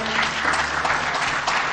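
A large audience at a university gathering claps in a dense, steady burst of applause, loud and sustained throughout, with a voice faintly underneath.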